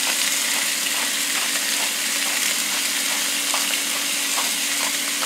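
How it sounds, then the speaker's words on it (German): Skewers frying on a grill, giving a loud, steady, dense sizzle throughout with faint occasional pops and no talking. "Dann braten wir die zu Ende."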